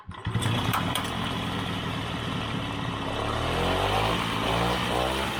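An old Mobiljet moped engine, idle for ten years and just repaired, catches right at the start and settles into a loud, steady, buzzing run that holds to the end.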